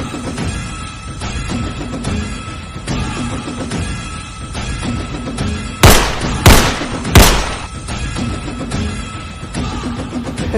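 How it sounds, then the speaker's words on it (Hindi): Three sharp, loud gunshots ring out in quick succession during a film scene, set against a steady background of music and ambient sound. "अज्जू मार गोली, कर दे साले के सूट।"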